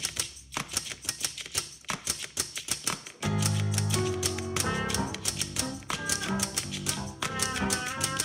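Typewriter keys clack in a brisk rhythm, first alone, then continuing under a dense layer of music.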